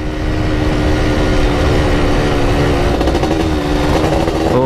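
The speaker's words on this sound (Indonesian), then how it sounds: "Suaranya smooth ya. Knalpotnya udah diganti sih." Yamaha F1ZR motorcycle with an aftermarket exhaust, its engine idling and revving in a steady, loud, close buzz that rises in pitch toward the end.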